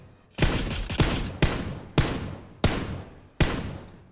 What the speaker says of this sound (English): There's some shots from the buildings.